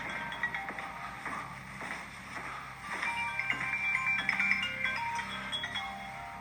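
A faint electronic ringtone plays a repeating melody of high tones in the background, growing a little louder partway through.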